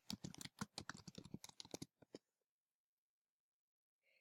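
Fast typing on a computer keyboard, a quick run of close, crisp key clicks that slows to a couple of final taps and then stops into near silence.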